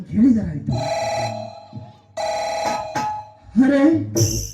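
A telephone rings in a few repeated electronic tones with short gaps between them, heard clearly and close by.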